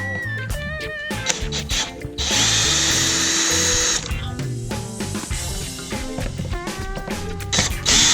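A power tool works on bolts of a Honda ADV 150 scooter: a loud whirring burst of about two seconds, then shorter whirs and ratcheting clicks, close by with little talk.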